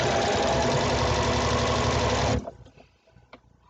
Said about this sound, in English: just run it under your sewing machine